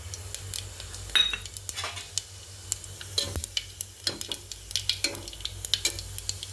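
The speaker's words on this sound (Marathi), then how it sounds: "तेल झालं गरम, आता त्याच्यात मी जिरे टाकते." Cumin seeds crackling in hot oil, heard as a close, fairly quiet sizzle broken by frequent sharp pops and a few clinks and scrapes of a metal spoon against the pan.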